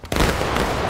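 Musket volley fired on command in a Civil War skirmish video game, a single loud, close crackling burst of many shots that starts abruptly and rolls on without a break.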